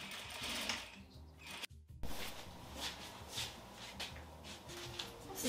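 A sewing machine stitches along the hem of a wedding dress skirt sample. It gives a steady close mechanical whir with a brief pause partway through, and nobody speaks.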